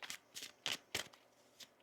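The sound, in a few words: shuffling tarot cards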